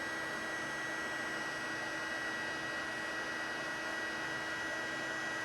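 A heat gun blows steadily on a soldered wire connection, giving an unbroken, even airflow roar with a faint hum and no change in level.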